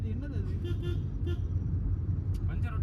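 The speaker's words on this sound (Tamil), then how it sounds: "வண்டி திரும்ப கிளம்பிக்கிறது" A car pulls away and drives off at night on a dark hill road near Mekkarai, Tenkasi, with a steady low engine rumble and road noise throughout and voices talking over it.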